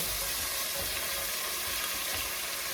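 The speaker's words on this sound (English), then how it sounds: "so we want to stir it like that" Cornmeal polenta with smoked herring, stirred in a pot, gives a continuous close sizzling hiss with soft scraping from the spoon throughout.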